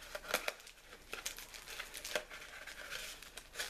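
Close, quiet crinkling and tearing of foil Pokemon Furious Fists booster pack wrappers as they are opened, crisp irregular rustles with no talk.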